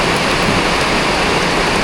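Heavy storm rain pours in a loud, dense, unbroken hiss close by, steady throughout with no talking.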